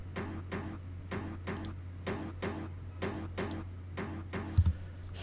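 A looping percussion sample shaped with an EQ8 equalizer ticks in a steady, clock-like pattern of crisp hits over a constant low drone, close and moderately quiet, with no voices.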